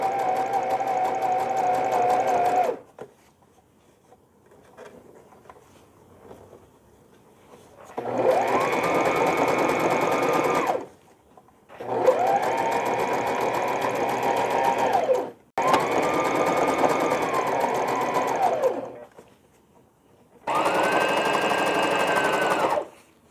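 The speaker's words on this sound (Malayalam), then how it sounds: "ബോട്ടം സിക്സാഗ് അടിക്കുകയാണ് ഫ്രില്ല്." A sewing machine runs a zigzag stitch along the bottom of a frill for a summer frock, whirring loud and close in four long runs with pauses, one short stop between runs and a brief burst at the start.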